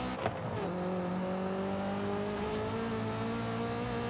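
A high-revving VTEC car engine in Forza Horizon 5 whines steadily with a rising pitch, racing-game style, after a brief squeal near the start.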